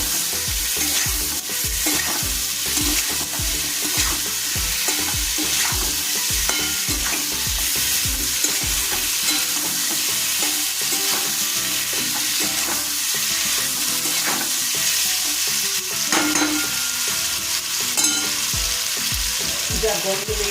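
Chicken frying in a pan with garlic and seasoning in a home kitchen, a loud continuous sizzle with frequent spatula scrapes and stirring knocks throughout, with no voices.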